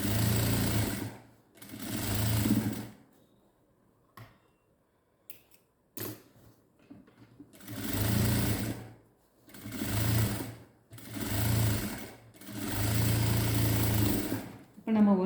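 A sewing machine stitches a churidar sleeve in loud, sustained whirring bursts separated by short pauses, with brief handling noises and a voice speaking in the quieter gaps.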